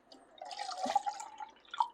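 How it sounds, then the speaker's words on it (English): Water trickles and drips into a can that held tomato sauce, a faint, close, irregular splashing that swells briefly near the end. "You're going to want to add a little bit of water to the can"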